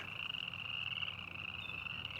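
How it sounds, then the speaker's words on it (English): Spring peeper frogs in a wet area give a dense, continuous chorus of high shrill peeps, many callers blending into one steady faint trill with no voices over it. "The peepers are out here."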